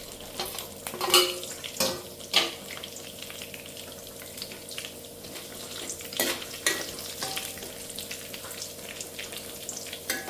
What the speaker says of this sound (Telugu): ఆయిల్ వేడెక్కిన తర్వాత పోపు దినుసులు వేసుకుని ఫ్రై చేసుకోవాలి.